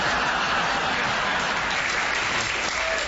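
A studio audience on a comedy panel show applauds, loud, dense and sustained throughout, with no talk over it.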